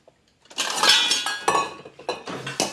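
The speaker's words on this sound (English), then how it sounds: "I'm gonna get a little bowl to put my seeds in" A small bowl is set down in a kitchen while red peppers are being seeded, bringing a few sharp ceramic clinks and knocks, close and distinct, scattered irregularly over a couple of seconds.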